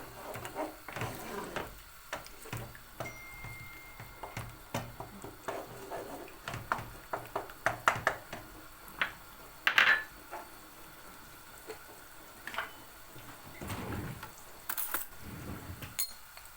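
Three eggs are broken up with a utensil in a pan of green bean kavurma: a quiet, irregular series of clicks, taps and metallic scrapes, some clustered and some spread out.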